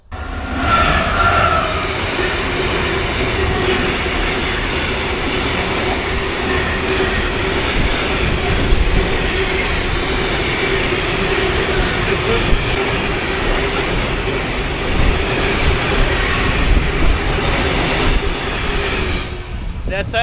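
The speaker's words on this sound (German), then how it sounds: "Ich glaube, das war der letzte Zug gewesen." A train rolls past on a nearby railway track beside a trackside bivouac, a loud, steady roar of wheels and cars lasting the full twenty seconds with faint squeals, close and overwhelming.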